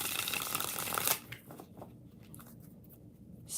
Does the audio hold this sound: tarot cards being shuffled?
yes